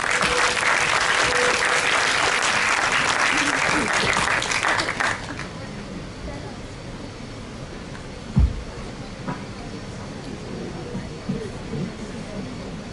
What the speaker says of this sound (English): Let us encourage them with a thunderous applause